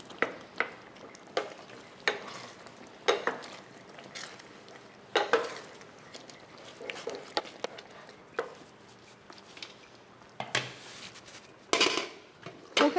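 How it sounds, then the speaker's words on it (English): Spoon stirring minced pork yellow curry in a pot, with a series of scattered metallic scrapes and clinks against the pot, quiet and close, irregularly spaced with a brief busier burst near the end. "I'm going to give this a stir."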